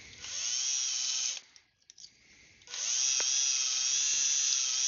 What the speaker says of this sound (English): We have to drill a little bit more.